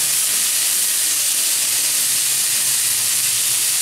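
Cauliflower pieces frying in hot oil give a loud, steady hiss and sizzle that stays even from start to end, close by and alone with no voices.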